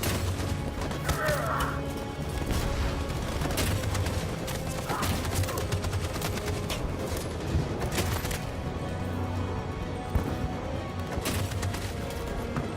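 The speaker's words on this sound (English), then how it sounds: "That machine gun is taking down everything that moves!" Sustained gunfire in the video game Detroit: Become Human, dense bursts and impacts forming a continuous loud barrage with scattered crashes and thuds throughout.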